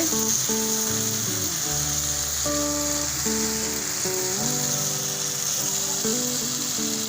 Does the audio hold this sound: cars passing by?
no